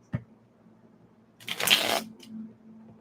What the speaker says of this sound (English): My cards did not want to shuffle that time.